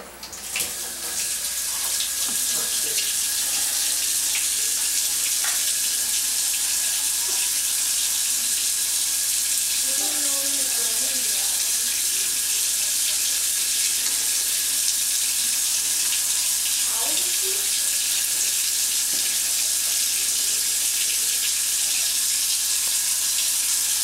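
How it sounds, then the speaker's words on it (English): Tap water runs steadily into a sink during handwashing, a loud constant hissing stream with faint splashes and clinks as hands move under it, no one speaking. "The first thing I'm going to do is wash my hands."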